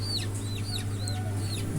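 Poultry cluck and chirp repeatedly in a chicken shed on a farm, several short rising and falling calls over a steady low hum, with no talking.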